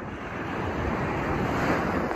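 Ocean waves break and wash up a beach close by, a loud, continuous rushing surf mixed with wind buffeting the microphone.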